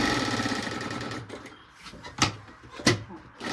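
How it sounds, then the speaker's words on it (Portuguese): A sewing machine stitching fabric close to the edge while making a toiletry bag with a strap, a fast steady mechanical rattle that stops partway, followed by a few sharp clicks. "vou segurar aqui e costurar bem rente a pontinha aqui"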